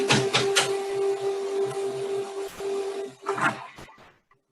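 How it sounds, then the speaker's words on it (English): An office printer runs with a steady mechanical whir and a sustained tone, broken by a few clattering bursts of paper feeding before it stops abruptly. "Yes, there is a lot of background noise. Okay, that's my printer."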